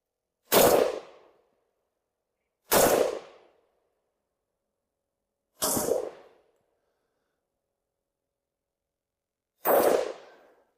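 A Zastava M76 rifle fires 8mm Mauser rounds at a target, giving four loud, sharp single shots spaced a couple of seconds apart, each with a short fading echo and near silence between them.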